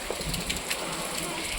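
Hard rain falling steadily in a village after a hailstorm, a thick continuous patter with a few sharper drops standing out, with a faint voice underneath.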